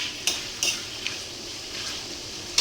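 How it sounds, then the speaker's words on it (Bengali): Lote fish, Bombay duck, being sautéed in a kadai: a spatula scrapes and clinks against the pan in a few sharp knocks over a soft steady sizzle, with no talking. "এইভাবে কষাতে হবে এখন লোটেটাকে ভালো করে"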